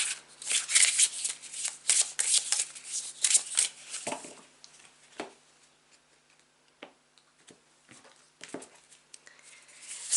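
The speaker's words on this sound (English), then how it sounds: "now's the time to take a couple of deep breaths as I shuffle it" A tarot card deck is shuffled by hand in quick, papery riffling bursts that are close and fairly loud at first, then thin out into sparser single flicks and slides.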